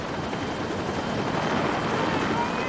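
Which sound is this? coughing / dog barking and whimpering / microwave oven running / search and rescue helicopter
search and rescue helicopter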